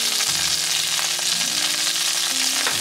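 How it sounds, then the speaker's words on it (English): Kale sizzles steadily in a hot pan with salt and pepper, a continuous close frying hiss with faint stirring scrapes and no voices. "we're going to let that cook for 3 to 5 minutes. Until our kale has begun to wilt"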